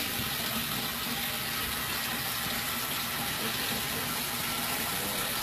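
Hot water sprays steadily inside a Busboy dishwasher, a loud, constant rushing hiss with no pauses.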